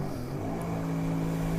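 A Sea-Doo Spark jet ski engine throttles up in a steady, rising drone that builds slightly in loudness over a short stretch, with no talk over it.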